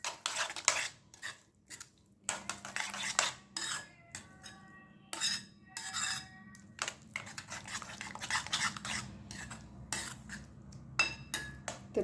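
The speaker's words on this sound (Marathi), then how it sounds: "छान मिक्स करून घ्यायचं आहे आपल्याला." A spoon stirs semolina breakfast batter with coriander in a bowl, repeated scraping and clinking of metal against the bowl in irregular bursts, close and fairly quiet.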